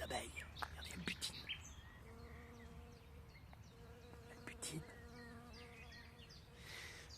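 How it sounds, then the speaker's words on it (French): Faint, steady buzzing of a bee colony hums beneath quiet outdoor ambience, with a few soft voices and birdlike chirps drifting in at moments. "C'est quoi ça, hein? Des petites abeilles."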